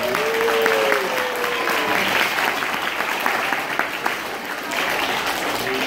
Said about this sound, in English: Big round of applause for the Spann singers and the Spann singers.